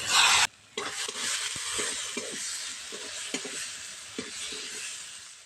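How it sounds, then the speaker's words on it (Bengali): Chopped tomato drops into mustard-poppy paste frying in oil, with a sudden loud burst of sizzle at first, then steady hissing under repeated close stirring and spatula scrapes, no voices. "টমেটো কুচিটা দিয়ে দিচ্ছি"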